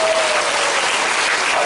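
A church congregation at a Korean memorial worship service bursts into loud, dense applause, a brief sustained wash of many hands clapping together with no break.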